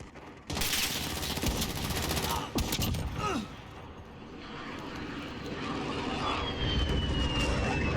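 Aircraft in a Call of Duty–style shooter game passing overhead as a loud, sustained engine roar mixed with bursts of gunfire and explosions, with a faint rising whine near the end.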